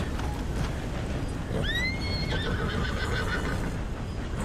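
A horse whinnies once in the Red Dead Redemption II game, a rising then falling neigh lasting about a second, heard over steady background game sound with hoof clopping.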